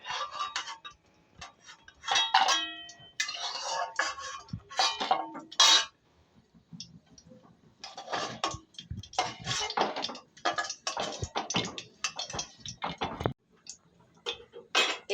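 A metal utensil clinks and taps against a pan as fried paneer pieces are lifted out while chilli paneer gravy is being cooked at home, in irregular bursts of close clatter with quiet gaps.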